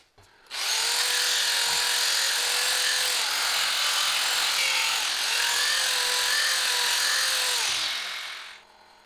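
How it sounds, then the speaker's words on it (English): Power sanding inside a wooden Viking bowl on a lathe, a steady loud whirring hiss with a faint wavering tone that runs for about eight seconds, then stops. "I'll sand the inside"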